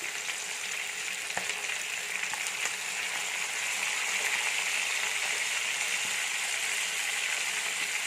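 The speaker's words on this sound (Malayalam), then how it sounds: "തിരിച്ചിട്ടിട്ട് മീഡിയം ഫ്ലെയിമിൽ 10 മിനിറ്റ് ഒന്നുകൂടെ ഒന്ന് വറുത്തെടുക്കാം." Chicken pieces frying over a medium flame for a Dhaba-style curry, a continuous close sizzle with occasional clicks and scrapes as the pieces are turned, steady throughout.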